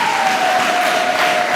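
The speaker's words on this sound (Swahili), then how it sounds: "hebu mshangilie Yesu kwa makofi." A church congregation at the Jerusalem parish claps in a short, dense, loud burst of applause lasting under two seconds.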